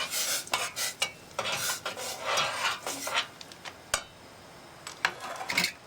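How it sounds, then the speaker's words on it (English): Minute rice being stirred into a boiling Spanish rice mixture in a pot on a butane stove, with repeated scraping spoon strokes and clinks against the pot over a soft bubbling simmer, up close. "I'm going to stir in the 1 cup of minute rice."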